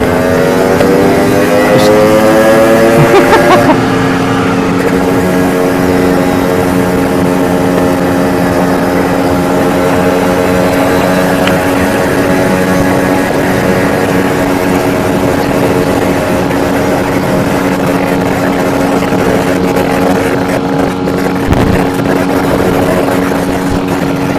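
A car drops a gear and pulls away hard, its engine droning loud and close with rising and steady harmonic tones under a strained note, continuing for the whole stretch with no speech.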